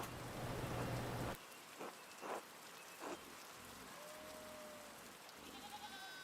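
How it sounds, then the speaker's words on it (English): Steady rain falls on a medieval abbey in the video game Pentiment, a soft continuous patter with a few brief bleats of sheep or goats standing out over it, faint overall. "Rain falls on the abbey and rolls down to the little people."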